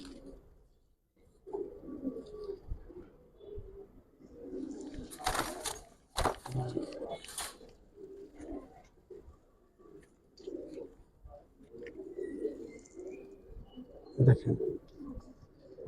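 Giribaz pigeons coo softly and repeatedly at close range, low rolling calls that come in irregular bursts with a few rustles and flaps between them.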